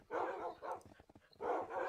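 Tamed dogs summoned by a command block in the Minecraft video game give a few soft barks and yips in short bursts, fairly quiet with gaps between them.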